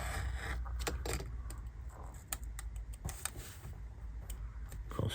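A plastic part being cut from a Metcalfe model railway stable kit, heard as a run of close, sharp clicks and snips over a steady background rush, with no talking.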